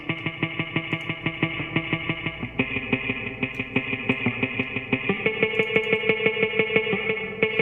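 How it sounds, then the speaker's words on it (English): Rhythmic muted guitar picking, steady eighth-note plucks with a processed, chorused and slightly distorted tone, playing alone and shifting pattern partway through. "There was like some muted picking and stuff happening in the background that sounds like this."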